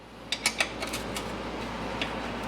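A ratchet wrench clicks in a few short bursts while backing out 11 mm transmission cover bolts on a 1978 Silver Anniversary Corvette, close and fairly quiet over a low background hum.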